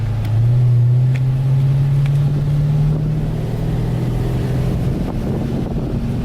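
Two cars drag race from a dig, both running 24 to 25 psi in the rear tyres, one engine roaring loudly at full throttle as they launch, heard from inside with heavy wind buffeting.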